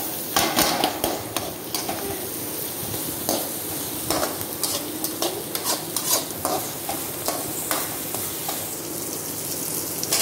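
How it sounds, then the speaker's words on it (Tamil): Onions sautéing in a pan for a papaya sambhar, with a steady sizzle and repeated scraping strokes of a spoon stirring them, close and fairly loud throughout with no talking. "வெங்காயம் நல்லா வதங்கிட்டுருக்கு."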